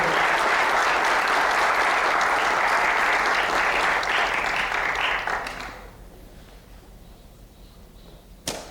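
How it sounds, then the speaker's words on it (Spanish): Audience at a book talk gives journalist Marino Zapete loud, sustained clapping, then the applause thins and fades to a quiet room, ending with a single sharp knock. "Vamos a darle la bienvenida con un fuerte aplauso al periodista Marino Zapete."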